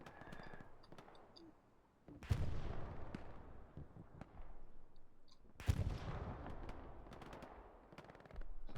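Gunfire from a World War II battle in Hell Let Loose on Utah Beach, with two sharp, loud bursts opening dense volleys of shots that trail off amid distant rattling fire.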